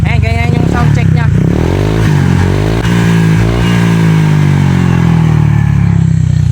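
A Honda Click 125 scooter fitted with a new exhaust pipe revs up close and loud, its engine note climbing and falling in repeated throttle blips over a steady idle drone.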